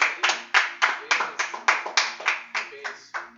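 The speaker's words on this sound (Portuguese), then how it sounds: "Você pode aplaudir bem forte a Jesus na sua casa" Steady, firm hand clapping during a church worship service at home, about a dozen sharp claps in an even rhythm, close and clear with no talking over it.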